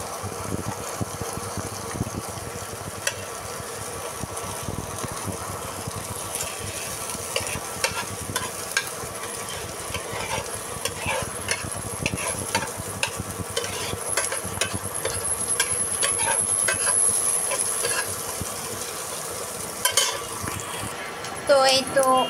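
Food frying and stirred in a pan while cooking lau with dal, a steady close sizzle with scraping stirs running throughout, faint background noise underneath.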